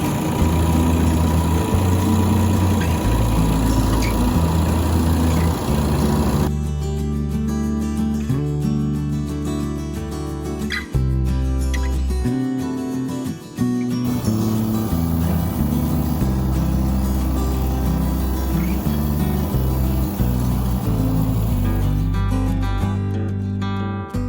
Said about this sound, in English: this rig that we're baling with is a Massey Ferguson 360 tractor pulling a Heston 530 baler